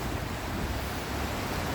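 A river swollen by heavy rain rushes past, a loud, continuous broadband roar of fast-flowing water with a wind-like hiss and no voices.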